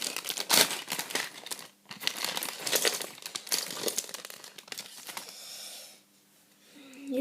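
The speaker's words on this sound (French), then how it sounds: "Donc on va ouvrir le sachet." Plastic bag of Bionicle Chima building pieces being torn open and handled, producing loud, dense crinkling and rustling with sharp tearing bursts, close up, easing into quieter rustles near the end.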